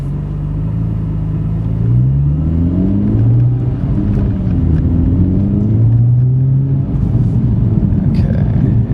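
Turbocharged car pulling hard in third gear, its engine note climbing in pitch through repeated rising sweeps, loud and close with a steady rumbling roar and no talk over it.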